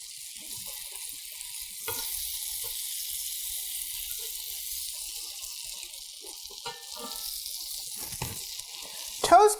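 Burger buns toast in a generous amount of butter in a Lodge Blacklock cast iron skillet, giving a steady close sizzle throughout with a few soft clinks and a brief louder clatter at the end.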